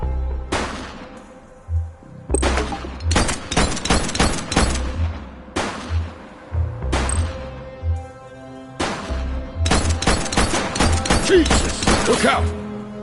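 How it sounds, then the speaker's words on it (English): Gunfire during a shootout in the police video game The Precinct: repeated loud bursts of shots in clusters with brief gaps, heavy low thumps and sharp cracking, set against steady game ambience. "Who's shooting?"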